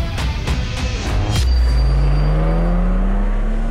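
A Toyota Hilux Revo GR Sport pickup climbs a steep off-road hill in the Australian outback, its engine droning steadily and rising slowly in pitch, with a few sharp knocks and thumps early on.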